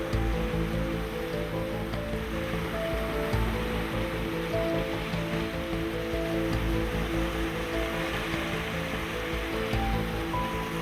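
Sea waves wash steadily along the waterfront at Mazara del Vallo in Sicily, a continuous broadband surf hiss with low rumbling beneath, moderately distant and uninterrupted, no voices.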